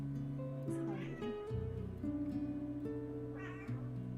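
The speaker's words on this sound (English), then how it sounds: "I don't know if you guys can like hear her meow in the back." A pet cat meows a couple of times in the background, faint and brief, under steady tonal sound and a nearby voice.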